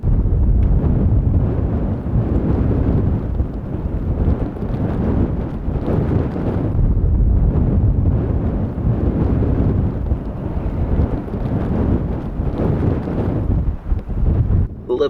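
Blizzard wind in a Norway snowstorm roars in continuous heavy gusts against a winter van, loud and buffeting the microphone for the whole stretch, with rising and falling surges.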